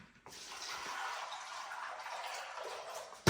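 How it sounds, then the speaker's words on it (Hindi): Room-temperature water pours steadily onto cashews in a bowl for about three seconds, a soft close splashing stream with a small clunk at the end. "इसमें अब मैं डाल देता हूं नॉर्मल टेम्परेचर वाला पानी"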